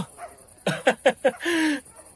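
A dog gives a run of four sharp, close barks followed by a longer whining yelp, loud and clear against a quiet background at a guest house resort.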